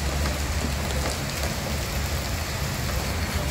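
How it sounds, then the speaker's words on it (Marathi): Heavy rain pouring steadily, a dense, loud, unbroken hiss with a low rumbling undertone and no voices. "भरभराट पाऊस चालू आहे"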